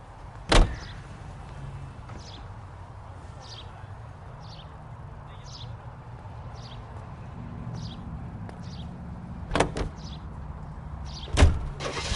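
Steady low engine rumble of a car driven in the video game L.A. Noire, a continuous drone with a few sharp knocks and thumps scattered through and faint ticking above.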